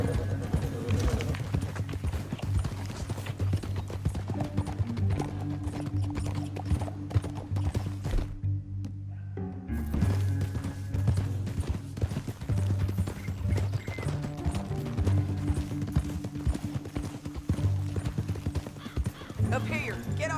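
Horse hooves clip-clop steadily through a Red Dead Redemption 2 canyon, with an occasional whinny and a brief pause near the middle, mixed under character dialogue and music.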